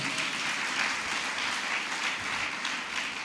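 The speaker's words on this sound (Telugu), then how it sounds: "ఈ స్థలము దేవుని ఆత్మ మాట్లాడే స్థలం అని నమ్మిన వారు చప్పట్లు కొట్టండి." A church congregation at a prophetic ministry service claps together in a continuous, even wash of applause, heard at moderate distance and fairly soft, with no voices over it.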